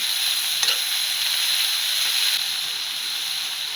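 Chopped medium-size tomatoes fry and get stirred in a pan for a gorikai palya, giving a steady, loud, close sizzle and hiss with a few light scrapes of the spoon.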